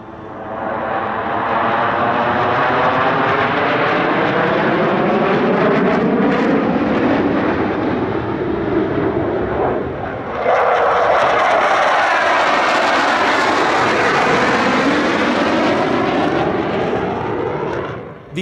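A light combat jet flying a display at the LIMA Langkawi 2023 airshow makes a loud, sustained roar that swells and shifts in pitch as it passes, with no voices over it.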